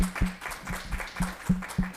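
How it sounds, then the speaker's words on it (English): Small audience at a tech user group talk giving a brief round of applause for the speaker, sparse individual claps at an uneven rhythm over a low hum, with no one talking. "So let's give a big round of applause for Ken."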